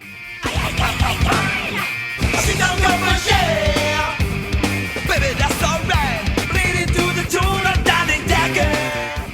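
A full band plays a driving funk rock song, a studio recording with punchy drums, bass and vocals, loud and dense throughout.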